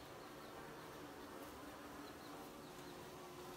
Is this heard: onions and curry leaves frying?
no